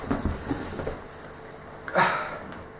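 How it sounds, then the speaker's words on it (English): A family dog whimpers and pants close by, breathy huffs and soft whines in an irregular rhythm, then a sharper, louder whimpering burst near the end, with a faint jingle in the background. "this is the family dog"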